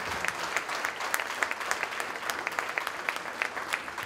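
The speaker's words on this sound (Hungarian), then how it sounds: "Tapsoljuk meg az úriembert még egyszer" Audience applause at a dance school birthday gala evening in Kecskemét: a steady patter of many hands clapping, moderately loud and sustained, with sharper individual claps standing out through the four seconds.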